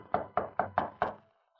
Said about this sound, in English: he heard the knock on his cabin door